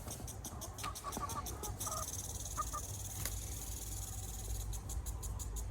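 Crickets chirp in steady, rapid pulses among chickens feeding on them, with faint clucks and pecking over a constant outdoor hiss, all at low volume and with no talk.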